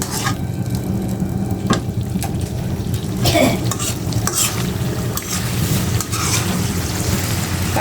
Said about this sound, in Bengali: এখন আমি আলতো হাতে একটু নেড়ে সেড়ে মশলার ভিতরে সম্পূর্ণ মাছটা সুন্দর করে মিলিয়ে দিচ্ছি